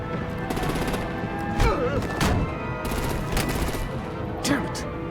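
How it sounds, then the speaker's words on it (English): Rapid gunfire bursts and heavy thumps of artillery in Batman: The Enemy Within, sharp repeated shots over a steady din of combat, with voices shouting amid the shooting. "Break out the artillery and disable their vehicles!"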